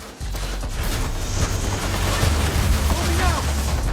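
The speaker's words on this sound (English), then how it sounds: "Guys are shooting at me, man." Enemy gunfire in a first-person shooter video game, sustained bursts of rapid shots and explosions that keep up a dense, loud barrage throughout.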